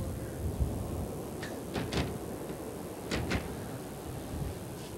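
A side door being opened gives a few short sliding, clattering knocks over a steady low background rumble, fairly close, with no one talking.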